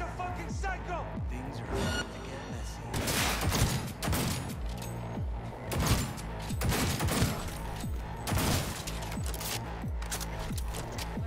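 Sustained minigun fire and other gunshots in a Cyberpunk 2077 firefight, dense overlapping bursts with sharp impacts running the whole stretch, loud and close, with a voice speaking over the shooting at times.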